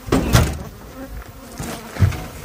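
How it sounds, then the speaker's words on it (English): Aggressive bees buzz close by in swelling, erratic bursts with brief lulls between them. Individual insects seem to pass near and then away, with no talk. "knocking down these aggressive bees"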